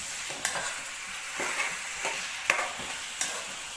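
A spoon stirs chicken fry through hot oil in a pan, giving a steady sizzle with several sharp scraping clinks spaced about a second apart. No one talks over the sound.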